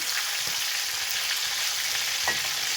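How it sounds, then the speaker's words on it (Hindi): Chicken pieces frying in a pan for a Kashmiri chicken dish, a steady dense sizzle with occasional faint stirring knocks, close and continuous with no talking. "चिकन फ्राई हो रहा है"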